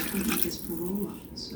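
Tap water runs steadily into a cooking pot at a home stove as supper is prepared, a continuous close splashing rush with a faint voice in the background.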